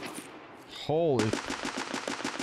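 Rapid automatic gunfire in the Escape from Tarkov video game: a sustained burst of evenly spaced, loud shots follows a brief voiced exclamation and carries through to the end.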